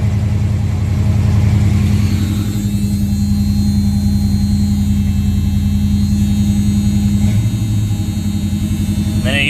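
A Camaro engine fitted with a Holley 4-barrel carburetor and electric choke idles too high, a loud, steady mechanical hum close up that sags slightly partway through before settling back, with no one talking.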